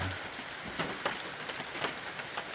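Steady outdoor drizzle, a constant soft patter of raindrops on surfaces with occasional slightly louder drops, even and close, with no talking.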